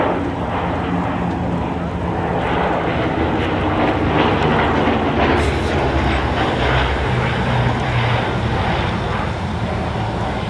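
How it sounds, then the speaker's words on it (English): Four biplane trainers take off from a grass airfield at an airshow, their piston engines a steady, broad drone with no break, rumbling at a moderate distance for the whole stretch. "Our quartet of biplane trainers, meantime, getting airborne off the grass."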